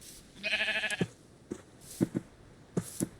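A Minecraft sheep gives one drawn-out bleat, followed by several short, soft thuds and clicks spaced apart.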